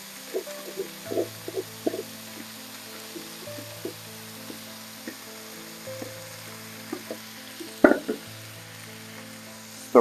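Leek, onion and garlic fry in a pan with a steady sizzle, broken by repeated scraping clicks of a utensil as they are stirred, plus a sharper knock near the end.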